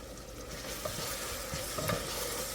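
Onions sizzle steadily in a pan for a Greek green bean dish, with scraping stirs on top of the continuous frying, close and loud, with no talking.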